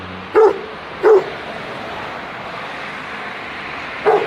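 A Dogo Argentino barks three times, two quick sharp barks close together and another a few seconds later, over a quiet background.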